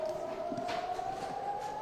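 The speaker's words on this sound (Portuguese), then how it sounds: "A sirene é acionada nesse momento" An air raid siren sounds during a Hamas attack in Israel, a steady sustained wail rising slowly in pitch and droning on without a break over rustling and footsteps.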